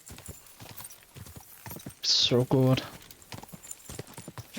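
Horse hooves clip-clop at a quick pace in the game Kingdom Come Deliverance 2, a short loud burst of rapid steps with a horse sound, while someone talks over it.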